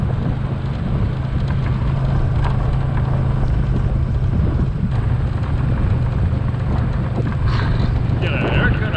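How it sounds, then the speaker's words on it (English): Strong wind buffets the microphone outdoors on a farm, a steady low roar that continues for the whole stretch, with faint voices partly masked underneath. "The wind took my hat."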